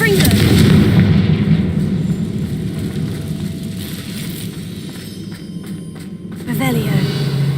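A Confringo blast spell explodes in the Hogwarts Legacy game with a deep, rumbling boom that fades slowly, then a second burst follows near the end, loud and close, with game sounds beneath.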